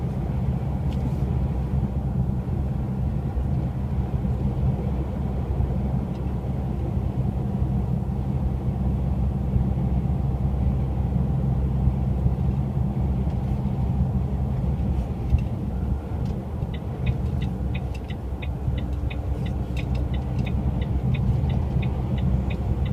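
Car cruising on an Italian motorway near Milan heading north toward the Swiss border, a steady loud cabin rumble of engine and tyre roar with faint ticking late on, and no speech.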